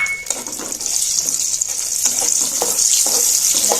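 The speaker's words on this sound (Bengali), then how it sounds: "গরম তেলে তেজপাতা, এলাচি, দারচিনি গুলো দিয়ে একটু ভেজে নিচ্ছি।" Bay leaves, cardamom and cinnamon sputtering in hot oil in a wok, a bright hissing sizzle with soft crackles and stirring taps, close and alone.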